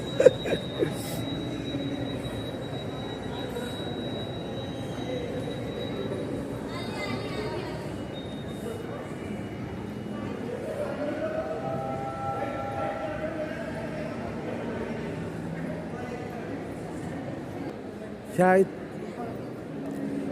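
A small mini ride train in a shopping mall rumbles and clatters as it pulls away, with a thin whistle-like squeal early on and people chattering nearby.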